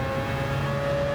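Several new race cars testing on the track at Spa, heard as a loud, steady engine drone with a sustained high whine, continuous throughout with no voices.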